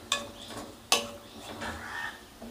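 Onions with salt are stirred and sautéed in a pan: two sharp spatula knocks against the metal, then soft scraping and a light sizzle close by.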